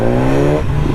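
A BMW S1000R motorcycle engine revs loud and close as its exhaust valves open. A steady, strong harmonic drone roughens and shifts partway through the short burst.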